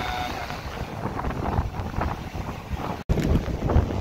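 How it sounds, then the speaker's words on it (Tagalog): Big sea waves churning at a breakwater under strong wind, heavy rushing water and wind buffeting the microphone continuously, with a brief dropout near the end. "talagang kalalaki ng alon"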